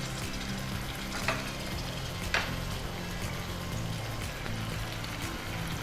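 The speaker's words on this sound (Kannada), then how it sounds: "ಈಗ ಟೊಮೆಟೊ ನೀರುಳ್ಳಿ ಎರಡು ಫ್ರೈ ಆಗ್ತಾ ಇದೆ" Tomato and onion frying together in a pan, a steady close sizzle under a constant noisy background, with two brief scraping stirs.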